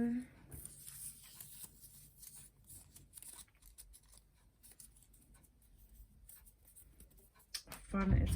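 Pen scratching on a small slip of paper in quick, light strokes, close and soft, with a voice speaking over part of it and a louder rustle of paper at the end.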